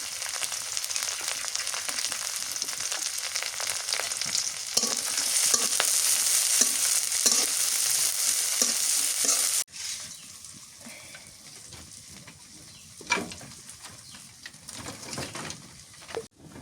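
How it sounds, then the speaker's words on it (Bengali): Chopped onion and green chili fry loudly in oil in a village kitchen pan, a steady close sizzle with stirring scrapes that ends abruptly, followed by quieter kitchen clatter and a few sharp knocks. "পেঁয়াজ মরিচ ভাজা হয়ে গেছে।"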